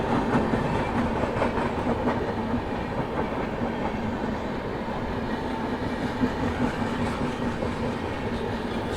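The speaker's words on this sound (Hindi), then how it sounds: "आगे यहाँ से कोई ट्रेन भी क्रॉस हो रही है, वलसाड हरिद्वार।" A Valsad–Haridwar express rumbles past on an Indian railway line, a loud continuous roar of wheels and coaches with rhythmic clatter, heard close from aboard an adjacent train, no voices.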